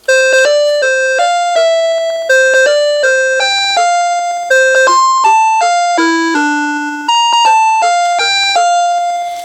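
A NuTone LA53 Sonata electronic door chime plays the Happy Birthday melody as a loud, clear sequence of bright bell-like tones in phrased groups, ringing alone with no voices.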